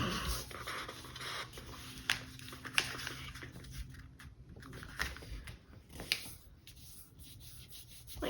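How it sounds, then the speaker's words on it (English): Paper sheets rustle, scrape and crease as they are folded for a paper plane, with soft rubbing broken by several sharp creasing taps, close and fairly quiet. "taking folded edge and folding that to the center"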